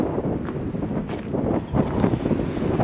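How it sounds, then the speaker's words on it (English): Strong wind buffets a wireless microphone on a desert hiking trail in Red Rock Canyon, a continuous loud rumbling roar with gusty surges and no voice. "this wind, I don't know if you can even hear me"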